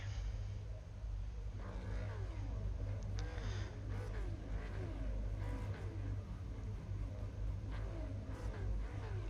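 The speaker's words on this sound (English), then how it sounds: "That's a lot of revving going on as they are getting ready." Race cars revving engines on the starting grid at Bathurst's Mount Panorama in an iRacing Supercars round: a dense, continuous roar of many engines with overlapping rising and falling revs, loud and steady throughout.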